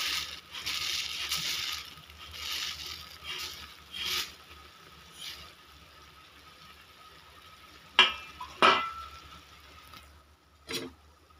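Vermicelli dropped into boiling water in a pot and stirred for a sheet-vermicelli khichdi, with a bubbling, hissing simmer broken by a few sharp scrapes and clinks of the spoon against the pot near the end.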